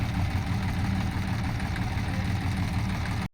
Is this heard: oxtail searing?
no